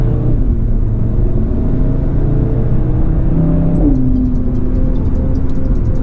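Engine and exhaust of a 2020 Audi RS3 while driving, a steady loud interior drone and rumble with gear changes audible as shifts in engine pitch, close and continuous with no talking.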